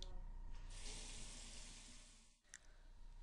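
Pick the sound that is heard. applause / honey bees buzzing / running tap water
running tap water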